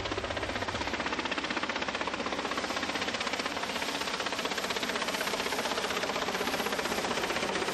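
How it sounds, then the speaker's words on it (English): A steady, loud mechanical whir and chop fills the air without pause as a helicopter lands close by in a car park, with no voices. "This was the first time a chopper had landed in the VIP car park"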